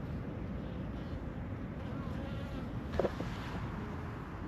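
Honey bees buzz around their hives in winter on cleansing flights, a soft continuous hum with a brief louder buzz as one passes close, set against low outdoor rumble.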